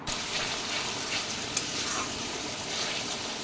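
Ground spice paste with salt and turmeric fries in hot oil with a constant close sizzle and crackle, stirred now and then, without any talking.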